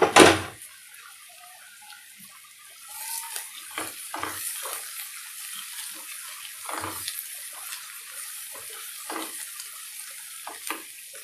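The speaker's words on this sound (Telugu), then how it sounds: "ఇది కాస్త బ్రౌన్ కలర్గా వేగే వరకు మూత పెట్టేద్దాం" Chicken and onions frying in a covered pan, browning over heat, give a soft continuous sizzle with intermittent crackles and pops, some brief clatters and bursts, no talking.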